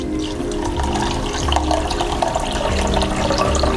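Blue butterfly pea flower wine being poured through a strainer or cloth into a vessel, a steady close splashing trickle of liquid that runs continuously throughout.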